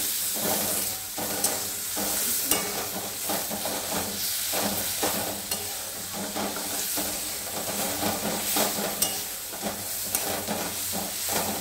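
Bay leaves dropped into hot oil in a pan for a potato dum, giving a continuous close sizzle and hiss with faint stirring scrapes, steady throughout and without speech.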